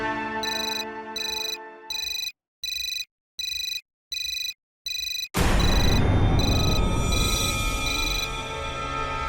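A mobile phone ringtone sounds in a repeating electronic pattern of evenly spaced tonal bursts, then gives way to a sudden loud, dense wash of sound that continues to the end.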